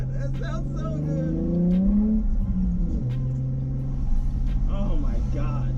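A Nissan 370Z with an X-pipe exhaust revs nearby, its deep, throaty drone rising and falling, with excited voices now and then over the exhaust note.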